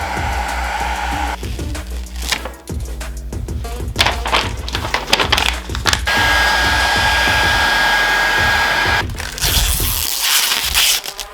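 Heat gun blowing hot air onto a sticker being fitted to a fork tube of a Fantic motorcycle in a garage, a loud steady whooshing drone throughout, broken by clattering knocks and handling thumps.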